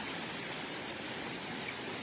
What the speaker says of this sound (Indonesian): depannya ada air terjun